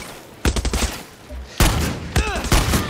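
Gunfire in the video game Far Cry 6, loud close bursts of rapid shots in two clusters separated by a short lull, with a voice shouting briefly over the shooting.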